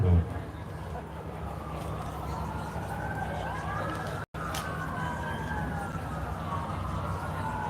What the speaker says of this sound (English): A lot of sirens.